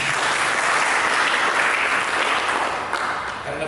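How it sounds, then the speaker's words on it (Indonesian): Church congregation applauding during a sermon, dense loud clapping from many hands that holds steady and tapers slightly at the end. "Berikan tepuk tangan bagi kita."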